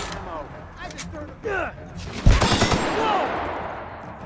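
Gunfire crackles in the video game The Outer Worlds, a loud rapid burst of shots with ringing tails over a busy in-game soundscape, following earlier scattered effects.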